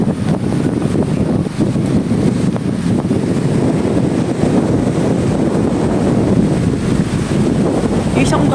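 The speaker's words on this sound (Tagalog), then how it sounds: "Pero dito, hangin talaga. Siniliteral na hangin." Strong wind on a beach at Balabac buffets the microphone in a steady, roaring rush that never lets up, with surf-like rumble underneath.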